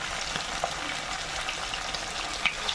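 Fish pieces frying in oil, a close, even crackling sizzle with small pops scattered throughout.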